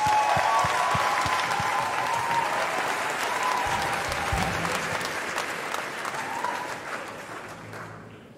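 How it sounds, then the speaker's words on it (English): Big round of applause from a school concert audience for the conductor at a house music event, steady dense clapping that fades gradually toward the end. "So another big round of applause."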